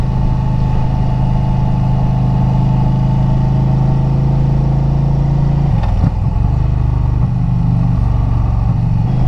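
An Indian Challenger motorcycle cruises a winding mountain highway in the Black Hills of South Dakota, its steady engine drone loud and continuous with a brief shift in tone partway through.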